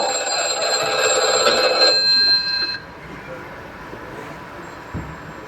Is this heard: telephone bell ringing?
yes